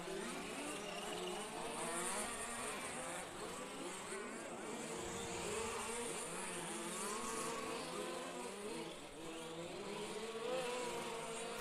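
Nitro RC off-road race cars run on a track at an EFRA large-scale championship, engines buzzing and whining steadily and continuously at middle distance, rising and falling as they lap, with a commentator talking over them.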